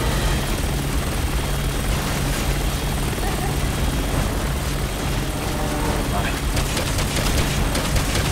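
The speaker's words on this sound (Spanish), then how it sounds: "Yo no sé si el helicóptero lo puedo derribar" Dense rumbling helicopter roar mixed with bursts of gunfire in a noisy Resident Evil 6 game scene, continuous and loud throughout.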